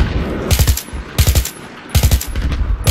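Automatic weapons fire in Battlefield 3 comes in three loud, rapid bursts of gunshots spaced about a second apart, with no voices over them.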